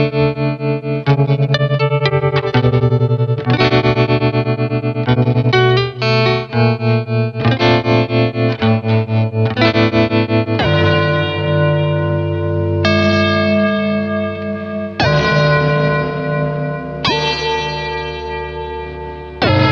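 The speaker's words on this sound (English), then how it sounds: "this is honestly the most musical ring modulator that I've ever played" Electric guitar played through a Red Panda Radius ring modulator pedal, giving metallic, bell-like chords with shifting modulation, loud and sustained with distorted, chorus-like swirling textures and no talking.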